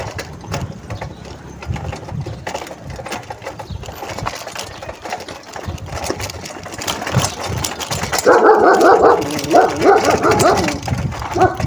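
A dog barks repeatedly in loud bursts beside a road during a bicycle ride, over a steady hum of scooter and traffic engines; the barking grows louder and more frequent toward the end.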